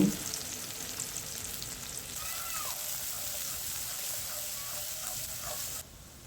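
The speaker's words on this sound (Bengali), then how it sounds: "রান্নার জন্য তেল দিব পরিমাণ মতো পেঁয়াজ দিব" Onions frying in oil for restaurant-style broiler chicken, a steady close sizzle with soft crackle throughout, dropping off slightly near the end, with no talk.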